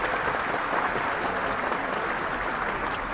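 Applause sound effect, a dense steady burst of clapping from a crowd, loud and continuous without a break.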